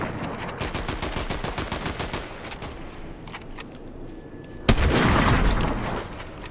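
Rapid automatic gunfire in a video game, a steady stream of shots that thins out, then a sharp loud blast followed by a dense burst of fire.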